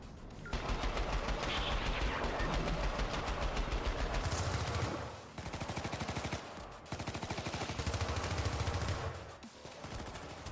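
Sustained machine-gun fire in the video game Syndicate, dense and loud in long rapid bursts split by brief gaps, with no voices.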